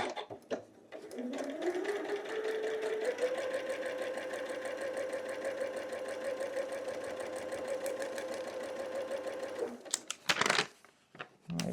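A sewing machine stitches quilt fabric pieces together, a near, steady motor whine that ramps up, then holds a constant rapid stitching rhythm for several seconds before stopping with a few clatters.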